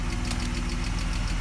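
A BMW E34 engine idles steadily while warming up after sitting in storage, a close, even rumble with a rapid rhythmic ticking pulse running throughout.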